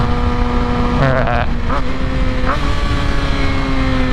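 A 2020 Kawasaki Ninja ZX-6R 600cc sport bike is ridden, its engine droning loudly with quick pitch shifts as it goes through the gears with the quick shifter, and a rider talks over the engine.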